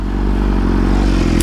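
A 2025 BMW S1000RR with a stage 1 tune rides past, its engine a loud, steady close-up drone with a rapid rattling pulse and no voices.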